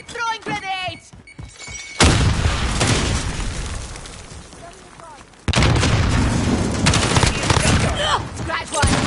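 Call of Duty grenade explosions and gunfire, with loud broadband blasts and rapid shots filling most of the clip, two sudden heavy bursts standing out, and voices calling out in the mix.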